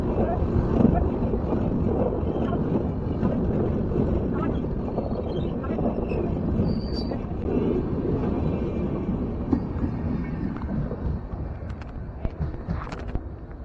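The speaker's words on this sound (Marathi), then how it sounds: "तुम्ही आता ट्रेन गेलेली बघितली" Train rumbling past near a tunnel at Khopoli, a continuous heavy low roar with wind buffeting on the microphone, steady throughout with faint metallic squeals on top.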